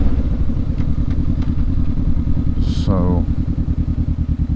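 A 2019 Honda CB500X motorcycle is ridden along a coastal road in Oregon, its engine a steady rhythmic drone with a brief rising rev, while a rider speaks a short word over it.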